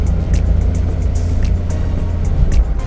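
Steady, loud rumble of a remapped Suzuki DA17W turbocharged engine idling nearby, low and continuous with a slightly uneven ticking texture, no talking.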